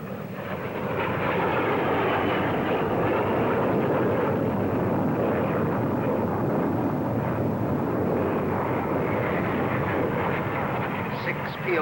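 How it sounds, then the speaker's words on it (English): Twenty-two Hawker Hunter jets of 111 Squadron fly a formation loop at the Farnborough air show, giving a loud, steady, broad engine roar that holds for the whole stretch. "22 of them from 111 Squadron doing that fabulous formation loop"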